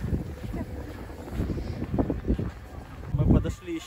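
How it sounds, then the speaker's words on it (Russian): Gusty wind from a snowstorm in Moscow buffets the microphone in uneven bursts, roaring and rumbling close up with no clear voices. "Еще ветер, настоящая бурга."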